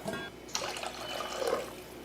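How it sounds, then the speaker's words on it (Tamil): Water splashes and trickles into a pot of chicken gravy for about two seconds, a close, fairly quiet pour with a brief splash near the start. "தண்ணி கொஞ்சம் சேர்த்தாச்சு"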